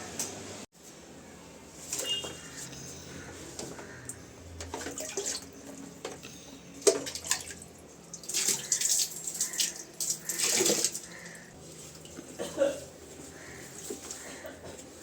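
Water runs and splashes into a container in bursts as plants are set in water, close up, with some clattering and handling noises between the pours.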